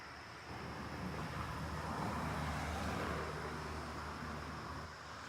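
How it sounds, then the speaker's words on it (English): A car passes on a small road right beside a campsite at night, a faint, distant swell of tyre and engine noise that rises, holds and fades over a few seconds, alone without talk. "having cars zoom by that close"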